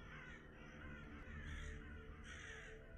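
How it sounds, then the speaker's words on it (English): Crows caw outside in a snowy winter scene from the video game Gray Dawn, a large flock heard as repeated harsh caws over a steady low background murmur, fairly distant and moderately loud. "Slight chance of flurries with a side of about, I don't know, 200 crows outside."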